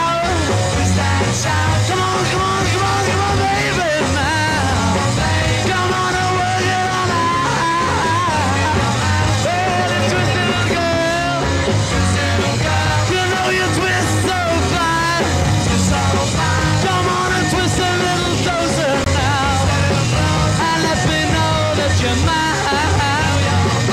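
Screaming from the audience at a live concert recording, as the band plays, forms a constant loud roar mixed with the music throughout.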